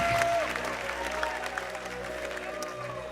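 A church congregation claps steadily in worship during an apostle's service, the clapping blended with voices and music in a large room, moderately loud and continuous.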